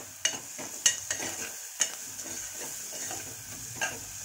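Potato stirred through spiced oil in a pan for chowli usal, a soft steady sizzle under repeated scraping strokes of a spoon, with a few sharper clinks against the pan.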